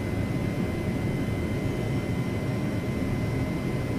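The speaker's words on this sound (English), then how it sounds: "Now we're going to bring the aircraft around" A steady, even rush of aircraft engine and airflow noise in the IRIS flight simulator as the plane turns during an instrument navigation exercise, a constant broadband hum with no breaks and no talking.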